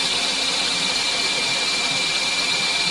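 A Model 9112 tube corrugating machine forming tubing runs at a slow speed of about 500 RPM, giving a steady, loud mechanical whine and hum with no breaks.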